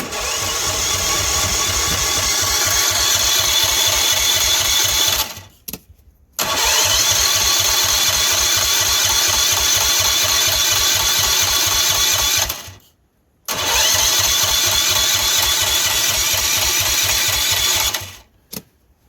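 A small engine runs steadily on a reset choke, a loud continuous rhythmic chugging that cuts out twice for about a second before picking back up, with no talking.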